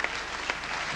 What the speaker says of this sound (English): Reference to that brought the biggest applause of the day.